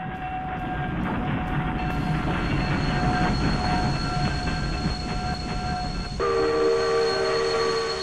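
A city train runs past with a steady, loud rolling roar and sustained, high, ringing wheel squeals that shift pitch partway through, and no talking.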